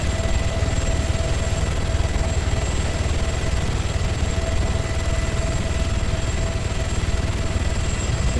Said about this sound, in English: Let's do a quick flyby before he lands.